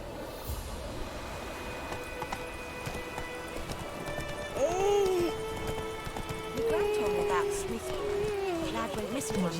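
Roach, a horse in the video game The Witcher 3, gallops with steady clip-clopping hooves and whinnies partway through, while voices talk over the hoofbeats.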